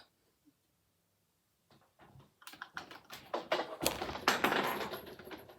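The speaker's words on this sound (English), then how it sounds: "9 inches is there, so I am going to give it a snip." Scissors snip through cross stitch fabric with a quick run of close, crisp cuts that build in loudness, following a few faint handling sounds in near silence.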